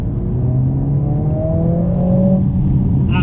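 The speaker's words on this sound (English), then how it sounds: "So I've got the exhaust sound on, put my foot down." A Mercedes-Benz A45 S AMG's exhaust revs hard and climbs steadily in pitch, a loud continuous engine roar close by with no voices.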